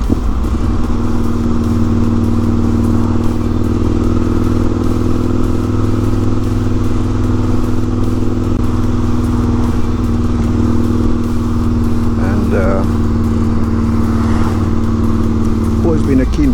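Motorcycle riding on a road on the outskirts of Killarney, a steady loud engine drone with wind rumble throughout, joined by a brief clatter near the end.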